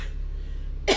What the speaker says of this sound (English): I think I have this cough from all the smoke we've had